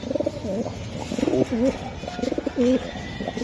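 Racer pigeons cooing close by, with several rolling, throaty coos in short bursts and a faint voice talking in the background.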